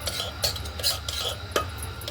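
Curd is spread around the inside of a small pot with a spoon, giving close, repeated light scraping and clinking strokes.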